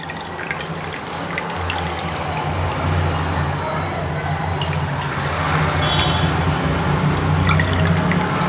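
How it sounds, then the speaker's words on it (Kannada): Water poured into a cooking pot on a stove, four cups' worth, giving a steady splashing, trickling flow close by that runs continuously without pause and builds slightly toward the end. "4 ಕಪ್ ನೀರನ್ನ ಹಾಕ್ತಾಯಿದ್ದೀನಿ ಬಿಸಿ ಮಾಡೋದಕ್ಕೋಸ್ಕರ"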